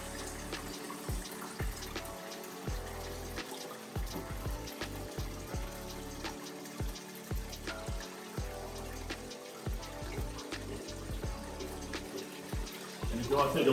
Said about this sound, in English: we're going to just drain everything from the cylinder and the hopper